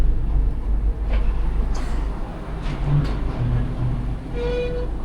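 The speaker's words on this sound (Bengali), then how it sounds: "ট্রেন চলতেছে দেখেন" A passenger train rumbles along steadily on the Lahore to Karachi line, a continuous low rolling drone with faint rattles and a brief tonal squeal or distant horn-like tone near the end.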